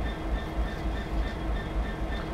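Class 66 diesel goods train in Train Simulator 2017, a continuous low engine rumble and rolling rail noise with faint rhythmic clatter, steady and close.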